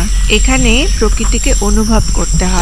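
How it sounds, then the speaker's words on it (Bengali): A steady, high-pitched cricket drone runs through daytime forest at a resort in the monsoon-green Dooars, continuous beneath someone talking close by throughout. "এখানে দেখুন, দিনের বেলাতেও ঝিঝি পোকার ডাক শোনা যাচ্ছে।"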